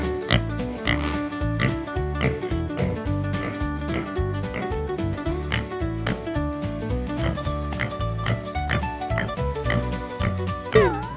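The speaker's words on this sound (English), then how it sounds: "It's a pig." A pig grunts and oinks repeatedly over steady, rhythmic background music, the snorts recurring close and fairly loud throughout.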